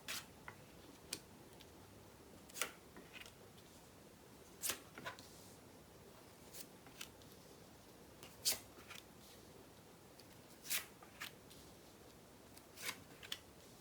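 Tarot cards are drawn one by one, making faint, sparse, sharp flicks and taps scattered across a quiet room with no talking.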